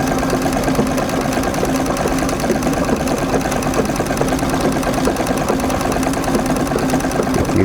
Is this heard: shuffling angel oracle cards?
no